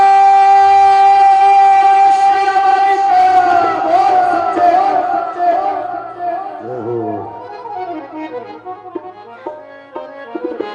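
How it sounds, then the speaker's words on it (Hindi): At a devotional jagran, a crowd shouts a jaikara chant in one long, loud, sustained cry that slowly fades out over several seconds. "एक जयकार लगाइए, जयकारा।"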